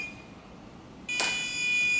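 A microcontroller alarm circuit sounds after being armed: quiet background, then a sudden steady high-pitched electronic tone that starts abruptly and holds to the end.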